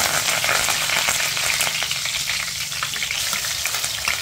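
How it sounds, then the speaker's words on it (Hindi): Curry leaves hit hot oil with mustard seeds for green chilli pickle, a loud, dense crackling sizzle with sharp pops that stays steady throughout. "अब इसमें डालेंगे करिया पत्ता"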